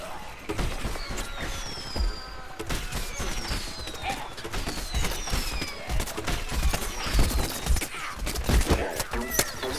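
Gunfire in the shooter game Plants vs. Zombies: Garden Warfare, dense bursts of shots with sweeping electronic tones over busy game noise and music, steady and fairly loud throughout.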